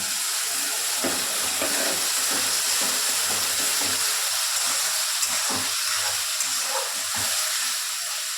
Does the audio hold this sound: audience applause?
no